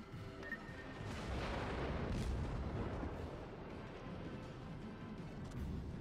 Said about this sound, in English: All three of them are shooting at you right now.